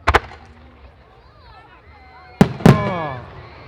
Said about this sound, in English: So we're moving on to 3 5-inch bright white center yellow Maltese shells